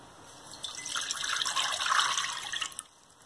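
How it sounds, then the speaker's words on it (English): Water poured into a Jamaican Dutch pot, two cups for a grater cake syrup: a steady close splashing trickle that builds and swells around the middle, then cuts off abruptly near the end, with no talking. "to my Dutch pot, I am adding 2 cups of water"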